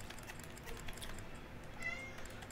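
A pet cat gives a short, fairly quiet meow close by in a bedroom, set against steady background noise and faint clicking.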